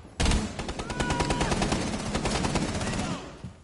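A machine gun in Rainbow Six Siege bursts into sustained rapid fire after a brief silent start, dense and close, fading off near the end.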